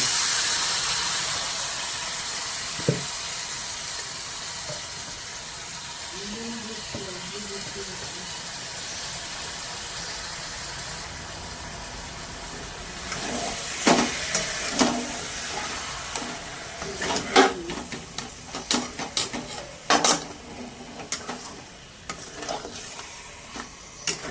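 Chicken meat drops into a pan of spiced masala with curry leaves, giving a soft steady sizzle, then sharper stirring and scraping bursts, with a voice speaking over it.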